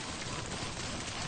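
Steady rain falling in the Death Stranding video game, a dense, even hiss of drops on surfaces that continues unbroken from start to finish with no voices.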